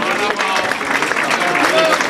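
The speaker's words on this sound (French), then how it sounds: "Visite Bruxelles, vos applaudissements." An audience at a Brussels awards ceremony claps in loud, sustained applause, with crowd noise and voices mixed in throughout.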